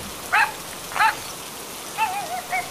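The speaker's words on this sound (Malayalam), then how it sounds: "എന്തൊരു മഴയാ" Heavy rain makes a steady, even hiss throughout, with a few short, high chirping calls rising over it at intervals.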